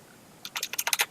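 About eight quick keystrokes clatter on a computer keyboard, close and fairly soft, following a short quiet stretch.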